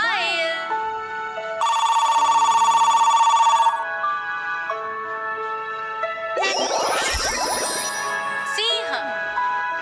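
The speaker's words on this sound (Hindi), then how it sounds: "मोबाइल।" A mobile phone ringtone trills loudly in a rapid, repeating electronic pattern for about two seconds, framed by tinkling chimes and bright musical jingles.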